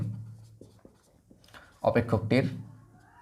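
A maths solution is written by hand: faint, scattered pen scratches and taps at first, then a person starts talking over them.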